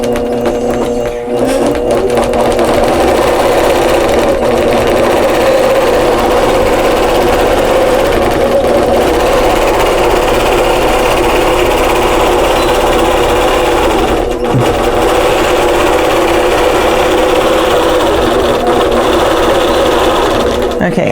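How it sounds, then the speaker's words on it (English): An APQS longarm quilting machine sews a face mask outline with a steady, loud mechanical hum and rapid needle rattle that runs unbroken for the whole stretch, while someone talks over it. "So I'm gonna hit sew, and it's gonna sew the next outline."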